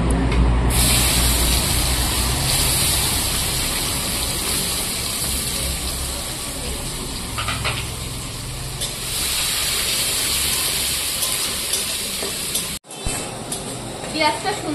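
Chopped onion dropped into hot oil that already holds bay leaves, dried red chillies and whole garam masala, giving a loud, steady hiss and spatter that runs throughout, with a voice speaking over it.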